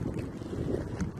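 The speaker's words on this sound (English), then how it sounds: "it's dark right now, as you might be able to see, and it's windy" Wind blows outdoors at night, a steady rushing buffet with microphone rumble, close and continuous throughout, with no talking.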